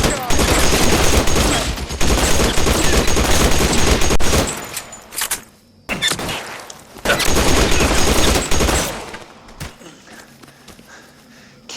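An LA Noire video game shootout erupts in dense bursts of rapid gunfire and fusillades, loud and sustained, broken by sudden silent gaps before firing resumes and then tapers into quieter scattered sounds.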